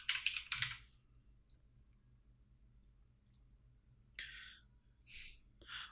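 Computer keyboard keys are typed in short bursts of clicks, with a quick flurry at the start and scattered taps and clusters later, fairly close and otherwise quiet.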